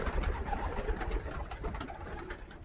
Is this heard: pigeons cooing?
yes